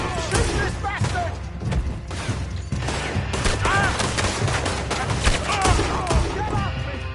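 Rapid gunfire from a Red Dead Redemption 2 shootout, a dense crackle of shots over a constant low rumble of action, with voices shouting and talking throughout.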